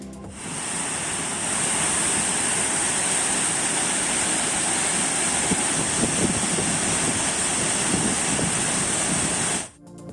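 Heavy water released from the Narayanapura dam rushing into the Krishna river, a loud continuous roar of churning water with no break, cutting off at the end.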